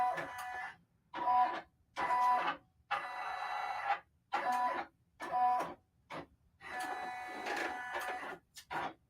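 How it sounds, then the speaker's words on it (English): An embroidery machine traces a design outline on a trucker hat, moving in short whirring bursts of about a second each separated by brief pauses, quiet and close with no talk. "I'm gonna just press my trace button, but I want to hold my needle down so that I know where it's tracing to."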